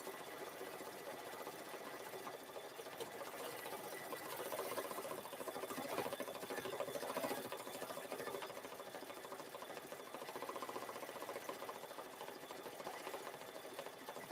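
An embroidery machine stitches out red freestanding lace with a steady, continuous whirring hum and rapid needle patter that runs unbroken throughout, fairly quiet and alone.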